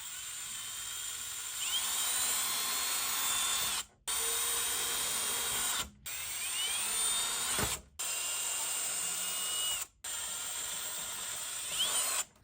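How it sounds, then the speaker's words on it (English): A small, high-pitched drill with a very small bit whines in several short runs of about two seconds each while starting a pilot hole, separated by brief pauses, close and steady. "I'm going to start off with a really small drill bit just to get the hole started."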